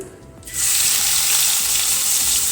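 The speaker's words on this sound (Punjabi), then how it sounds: "ਇਹਨਾਂ ਨੂੰ ਭੁੰਨ ਲਵਾਂਗੇ 2 ਮਿੰਟ ਵਾਸਤੇ ਅਦਰਕ ਲਸਣ ਨੂੰ ਭੁੰਨਾਂਗੇ" Ginger and garlic hit a hot pan with whole cumin, coriander and asafoetida for a home-style mixed vegetable dish, bursting into a loud, steady hiss after a quiet half-second and sizzling evenly to the end.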